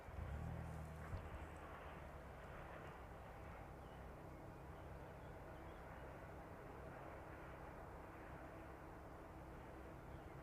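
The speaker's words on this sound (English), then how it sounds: "That one now on final approach in for 27 this evening." An airliner on final approach to runway 27, a steady distant jet rumble and hum holding evenly throughout, faint and unaccompanied by talk.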